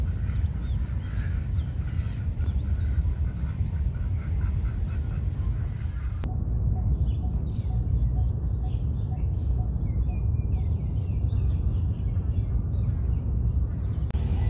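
Birds, including ducks and swans, call in a Bangkok park: scattered quacks and chirps over a steady low outdoor rumble, the calls growing busier and clearer partway through.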